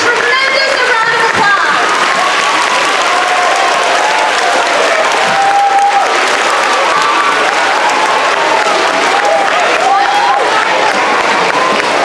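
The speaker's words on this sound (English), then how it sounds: "Boys and girls and adults, let's give them a tremendous round of applause" An audience of children and adults at a school assembly in a hall gives loud, sustained applause. Scattered cheers and voices rise through the steady clapping.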